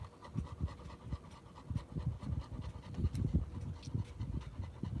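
A dog pants close by in a quick, rough rhythm of breaths, fairly quiet and continuous, with no talking.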